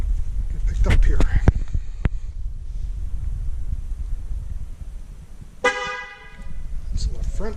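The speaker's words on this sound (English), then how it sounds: "we got the horn honk" A Ford Mustang GT350R horn honks once, a loud, brief tonal blare late in the clip after wind buffeting and some handling knocks, heard outdoors.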